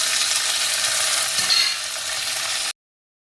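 Tomatoes frying in a pan after onions for a Tamil head-meat curry, a dense, even hiss of sizzling oil up close that stops abruptly near the end, with no talking.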